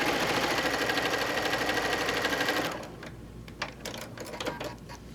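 A sewing machine stitches a quilt border in one fast, steady run of about three seconds, then stops, leaving scattered quiet clicks and fabric handling.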